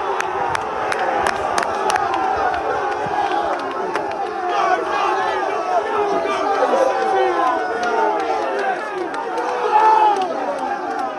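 Football fans in the stands at a Nuova Florida versus Nocerina match chant and chatter loudly, a dense, continuous crowd roar with voices rising and falling throughout.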